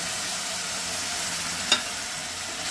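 Ginger-garlic paste with cashew and tomato paste fries with spices for a pea and mushroom curry. It makes a dense, steady sizzling hiss broken once by a single crisp pop, with no voices.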